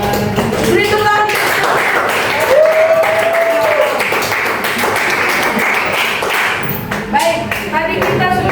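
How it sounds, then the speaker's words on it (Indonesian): A classroom of students claps together, the scattered patter of hands mixed with overlapping voices, and one brief whistle-like tone rises partway through before the clapping trails off. "Beri tepuk tangan."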